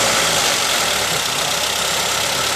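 A car engine idles steadily and loudly up close, a dense even rumble with no breaks; the car has a faulty MAP sensor and the check engine light is on.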